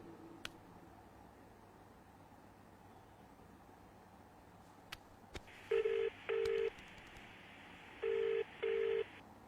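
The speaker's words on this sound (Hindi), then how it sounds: "वीडियो कॉल करता हूँ" A quiet room with a few faint clicks, then four short electronic tones in two pairs, like a phone placing a call.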